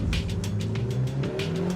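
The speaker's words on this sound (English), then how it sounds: "Just a car going the other way that's got no insurance on it." A car, a vehicle with no insurance, driving past in the opposite direction on a road near Rotherham, heard as a steady engine drone and tyre roar from inside a moving police car.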